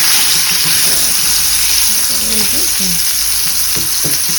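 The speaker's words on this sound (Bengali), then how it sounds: "খুব ডিপ ফ্রাই না শ্যালো ফ্রাই করছি" Fish pieces shallow fry in oil over low heat, a loud, steady, close sizzle with faint bubbling and small clinks underneath, no speech.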